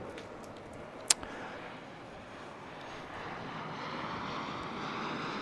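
A Strikemaster Mark 5A jet flies at the Eastbourne International Airshow, its engine a steady, distant roar that swells slowly, with one sharp click near the start.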